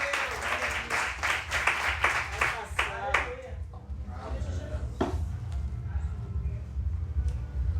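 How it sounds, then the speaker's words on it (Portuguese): A church congregation claps during a sermon. Rhythmic unison clapping rings out at first, then fades into scattered claps and a low room murmur with voices underneath. "Dê uma salva de palmas a esse Deus."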